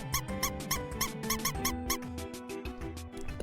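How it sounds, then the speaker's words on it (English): Repeated high squeaks of the rat from the video game Undertale, sounding in quick rhythmic bursts like a little parade. They run steadily for a few seconds over a looping tune, close and fairly loud. "The rat sound is a sound from Undertale"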